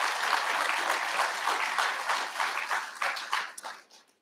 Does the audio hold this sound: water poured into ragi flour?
no